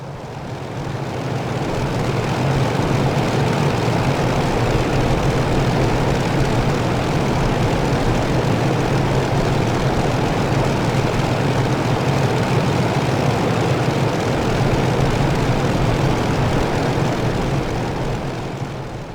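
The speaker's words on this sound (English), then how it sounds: "Of course we want to hear those wonderful engine sounds as we depart." A P-51D Mustang on its takeoff run in Microsoft Flight Simulator, its piston engine and propeller giving a loud, steady, deep roar that swells in and holds throughout, with no voices.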